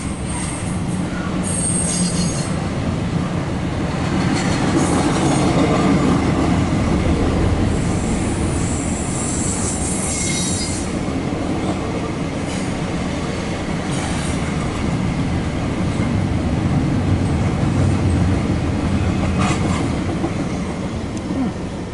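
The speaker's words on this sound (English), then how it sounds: "you never know when a freight train gonna come, like it is right now, coming west or east." A CSX intermodal freight train rolls past nearby, its wheels squealing and clattering on the rails in a loud, continuous rumble that lasts throughout.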